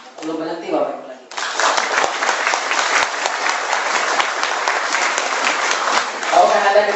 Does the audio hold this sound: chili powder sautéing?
no